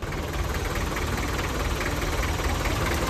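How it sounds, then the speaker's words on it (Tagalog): A motorcycle's stock, never-opened engine running with a steady, dense rumble and broadband mechanical roar, close and constant throughout, no talking. "Ito mga bossing ang makina."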